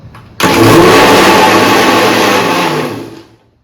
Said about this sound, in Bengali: মিক্সিতে বসিয়ে দিয়ে এক পাক ঘুরিয়ে দেবো